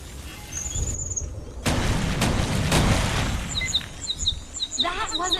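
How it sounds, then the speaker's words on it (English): Grenade explosion in the Defiance video game: a sudden broadband boom bursts in after a moment of quiet and rumbles for about a second, with bird chirps and other game effects before and after it. "Grenade!"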